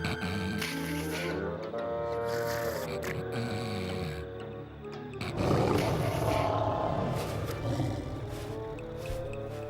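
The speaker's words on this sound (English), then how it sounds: "That lion sounds pretty ferocious and pretty close." A lion roaring in an animated children's cartoon, long rumbling growls and a louder surge midway, layered with orchestral score.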